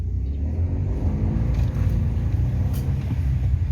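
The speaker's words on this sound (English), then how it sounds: "You can hear this little engine giving a good little roar when you put your foot down." A Fiat 500's small engine rumbles and roars steadily as it accelerates, heard close up from inside or near the car.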